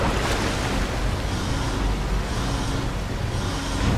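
Water draining from a chamber in the video game SOMA, a steady, full rushing wash of water that fills the whole stretch without a break, no voices over it.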